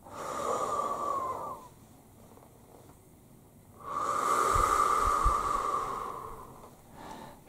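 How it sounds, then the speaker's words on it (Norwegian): Slow, deep breaths in and out, close and soft, with a long airy inhale, a pause, then a longer exhale, heard alone in a calm relaxation setting. "Så nå skal vi ta oss og puste inn."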